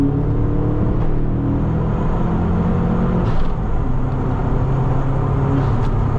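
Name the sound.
wind noise from car window seals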